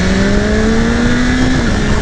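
A 2018 BMW S 1000 RR sport motorcycle revs hard under load, its engine tone climbing steadily and then dropping sharply as the quick shifter snaps up a gear, loud and close with no talking.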